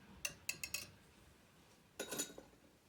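A whisk mixes thickened flax into vegan pancake batter liquid, making quiet bursts of quick metallic clinks against the bowl: a cluster of strokes, a pause, then another flurry.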